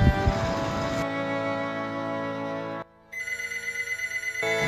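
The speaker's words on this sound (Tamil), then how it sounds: "யாரு ரெண்டு ஃபோன் பண்ணுறான்?" A phone rings with a steady electronic ringtone melody, fairly loud and close, running for several seconds with a brief gap before the tone resumes, no talk over it.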